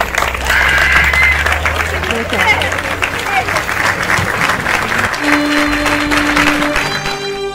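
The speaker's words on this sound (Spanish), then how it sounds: "Un fuerte aplauso para ellos." Wedding guests at a civil ceremony break into loud, sustained applause, a dense crowd of clapping that carries on throughout, with voices and a faint musical tone emerging toward the end.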